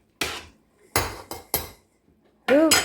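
Boiled corn in a cooking pot being stirred: a few sharp knocks and scrapes of a utensil against the metal pot with short gaps between, ending in a ringing metallic clatter, close by.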